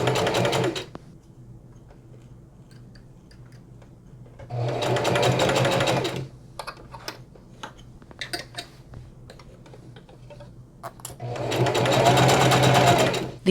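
A sewing machine runs in two bursts stitching a denim patchwork bucket hat, with quiet clicks and handling sounds between the stitching runs.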